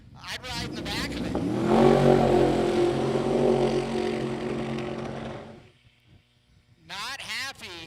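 A drag race car engine with a poor tune-up at Sick Week 2022 in Bradenton runs rough and uneven, a loud dense roar swelling for several seconds before dropping away, with voices talking at the start and end.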